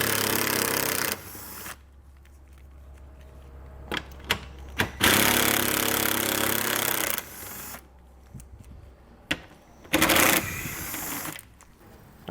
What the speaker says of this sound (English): And we're going to remove them using a 10mm socket.